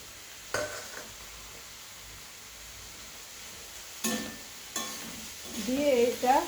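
Garlic and ginger paste masala is stir-fried in a pan for jackfruit seed curry. A soft sizzle runs throughout, broken by a few sharp spatula scrapes and clinks, and a voice speaks near the end.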